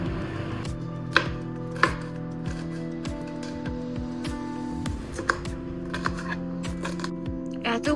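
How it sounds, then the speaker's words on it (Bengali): Knife chopping onions on a cutting board in a home kitchen, steady repeated thuds at a moderate pace over a low background hum, with a voice heard faintly. "এতগুলো পেঁয়াজ কেন কাটছো?"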